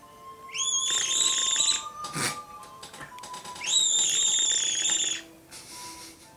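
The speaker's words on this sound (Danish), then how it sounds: "Der sidder en fløjte hernede, den svarer til den, man havde i de gamle kedefløjter." A whistle built into a wine-pouring vessel, similar to an old kettle whistle, sounds in two long shrill blasts a few seconds apart, with a brief clatter between them.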